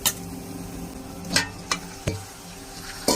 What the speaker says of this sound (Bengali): এখন শাকটাকে আমি ভাজা ভাজা করবো তেলের মধ্যে।